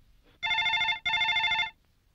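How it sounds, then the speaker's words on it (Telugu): A telephone rings twice in a Telugu comedy film, two bright electronic trills of just under a second each with a short gap, clear and close in a quiet room. "ఫోన్ మోగుతుంది, ఎత్తొచ్చు కదండి."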